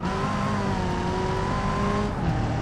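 A supercharged VW Derby engine in BeamNG.drive hums steadily at high revs with a whining supercharger tone, constant and close, without any talking.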